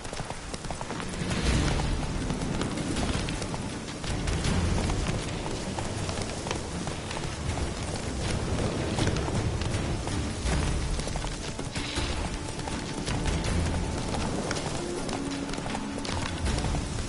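Roach the horse galloping in Witcher 3, a steady rapid clip-clop of hooves running continuously over a rushing, rain-like background.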